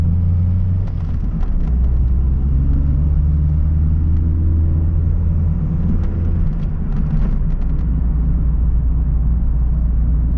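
Car cruising slowly through an English home town, a steady low engine rumble and road noise heard from inside the cabin, with faint clicks and small bumps over a continuous drone and no voices.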